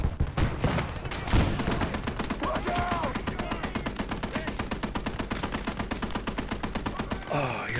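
A 2 cm flak gun in the World War II game Gates of Hell fires continuous rapid bursts, a dense, steady rattle of close shots lasting the whole stretch, with a heavier blast near the start.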